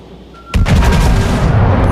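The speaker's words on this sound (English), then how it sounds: "That has 14-inch guns." A battleship's main battery of 14-inch guns fires in World of Warships: one sudden loud, heavy boom that lands abruptly and rumbles on, filling the rest of the moment.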